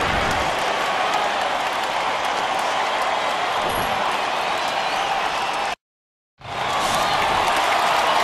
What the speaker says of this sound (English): Now the crowd electric right now, excited on their feet.